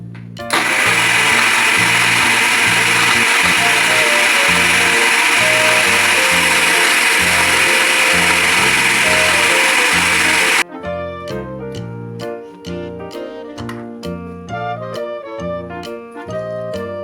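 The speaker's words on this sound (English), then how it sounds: "Let's blend it." A kitchen blender whirs loudly and steadily for about ten seconds, churning a chocolate banana smoothie made with dark chocolate, banana and sugar, then cuts off abruptly as light background music continues.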